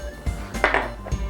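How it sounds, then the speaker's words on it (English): Meatball ingredients are mixed together in a bowl, giving a few close, clinking knocks of utensil against dish in quick succession. "So we're just going to put all these ingredients in and mix it really, really good"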